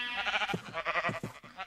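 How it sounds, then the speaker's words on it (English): Sheep bleat in the video game Minecraft on Xbox One, with several short, wavering, nasal calls following one another in quick succession, close and clear with nothing else heard. "Look, and we got sheep too."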